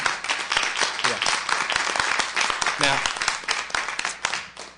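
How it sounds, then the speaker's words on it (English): An audience at an academic lecture hall claps after a lecture, dense close applause with individual claps audible, thinning toward the end as a voice speaks briefly. "So we can give a big round of applause."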